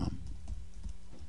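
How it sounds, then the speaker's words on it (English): Keystrokes on a computer keyboard as a web address is typed into a browser's address bar, a few soft, close clicks spread over a short stretch with no talking. "type in blockbuster.com"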